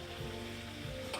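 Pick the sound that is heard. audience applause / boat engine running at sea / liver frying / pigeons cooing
liver frying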